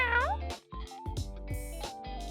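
A cat meows several times in a row, clear and close, with drawn-out rising and falling cries separated by short pauses.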